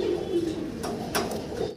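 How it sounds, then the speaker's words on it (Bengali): Fancy pigeons coo continuously at close range, soft low throaty calls with a few brief flutters or scuffs, indoors and without talking. "এত চঞ্চল কবুতরগুলো।"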